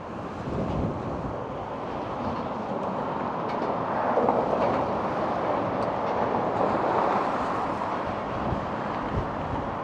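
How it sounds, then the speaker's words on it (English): Strong wind blows outdoors, buffeting the microphone with a steady, loud rumbling roar that surges slightly throughout, with no other sounds standing out. "Man, it's so windy, it's crazy."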